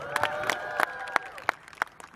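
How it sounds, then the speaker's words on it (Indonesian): Scattered handclaps from a small crowd at a slow pitch softball event in the capital, about seven or eight sharp separate claps spread over a couple of seconds beneath a voice and a faint tonal background. "Tepuk tangan buat kalian"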